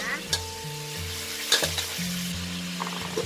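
Fermented soybean paste stir-frying in a pan over low heat, a steady soft sizzle with repeated scraping strokes of a spatula and a few sharper clinks against the pan, no voices.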